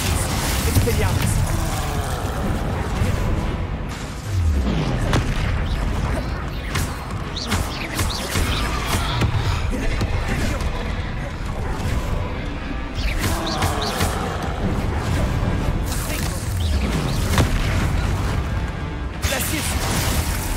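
In a wizarding video game, Bombarda spell explosions go off with loud crashes and bursts mixed with whooshing spell effects. Heavy combat noise runs throughout and a player talks over it.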